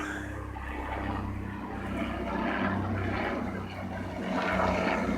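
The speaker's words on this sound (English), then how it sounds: "It looks like our eye in the sky may be coming towards me. The helicopter checking me out." A steady helicopter engine drone with a low rumble that swells and fades gently as it flies overhead, fairly distant, with no talking.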